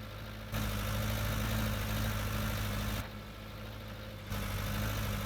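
Tractor engine in the Farming Simulator 19 game, a steady low drone that surges louder, drops back to a quieter idle around the middle, then rises again, with no talk over it.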